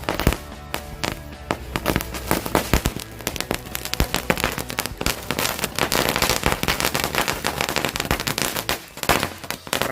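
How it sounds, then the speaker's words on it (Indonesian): A long Green Lighting firecracker string (mercon) bursts in a rapid, unbroken chain of sharp cracks and pops, loud and close, continuing for about ten seconds with no pause. "Mercon Green Lighting berhasil menyala teman-teman."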